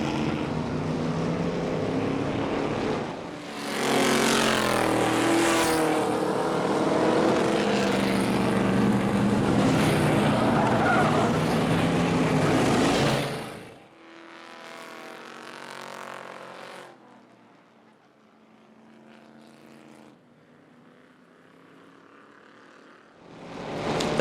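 Race cars roar around a speedway during a spin, engines loud and sustained for several seconds, then cutting off sharply and leaving faint, distant engine noise.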